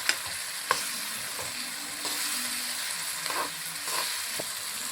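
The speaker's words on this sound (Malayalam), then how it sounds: "ഇനി നമുക്ക് അതിലേക്ക് ഇച്ചിരി പച്ചമുളക് നമുക്കിനി ഒന്ന് ഇളക്കി കൊടുക്കാം." Green chilies stirred in a frying pan in hot oil, a continuous close sizzle broken by a few sharp spatula clacks against the pan, with no talking.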